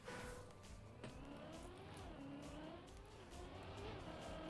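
A car in the Trackmania racing game drives steadily with a continuous engine drone and shifting pitch, loud and close throughout with no pauses.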